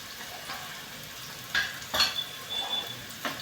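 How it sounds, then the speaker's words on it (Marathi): Onion being sautéed in a pan over a large gas flame, with a steady close sizzle and occasional stirring scrapes. "कांदा मध्ये मध्ये परतत राहायचा आहे, कारण गॅस आपला मोठा आहे."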